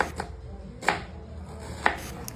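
Knife chopping beef for biryani in a home kitchen, with a few sharp, separate blows spaced about a second apart over a low background hum.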